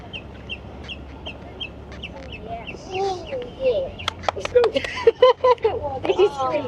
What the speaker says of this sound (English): Even have some birds chirping.